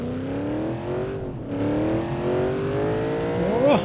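A nitrous-boosted car in BeamNG.drive revs and accelerates hard, its engine tone climbing steadily, dipping briefly at a gear change, then rising again to a loud, close whine with a squeal near the end.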